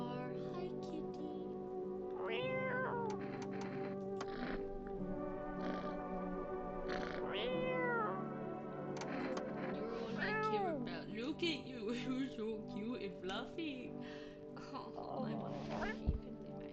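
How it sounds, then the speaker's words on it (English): A cat in the video game No, I'm not a Human meows several times in short rising and falling calls, clear and close, with a person talking between them. "Oh my goodness, where's the cat?"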